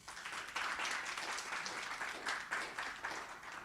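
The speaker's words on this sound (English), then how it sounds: "I expected a little louder round of applause for Professor Wendell Abe just now." An audience applauds at a tourism-worker counseling event, a moderate continuous patter of many hands clapping, fairly distant and quiet.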